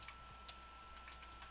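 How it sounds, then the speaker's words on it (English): Quiet, rapid keystrokes on a computer keyboard, a faint irregular run of light clicks with no voice. "So let's create this node by typing in"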